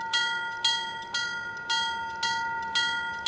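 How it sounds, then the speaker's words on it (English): A loud locomotive bell in a train simulator game clangs steadily, about twice a second, each strike ringing bright and metallic, with no voices. "a bell like the one on this engine that is really loud"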